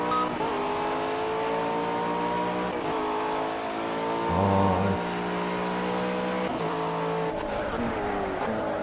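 Race car engines roar and rev steadily in the Project CARS game, with rising and falling pitch as gears shift, a brief louder surge mid-way, and light tire squeal, continuous with no talk.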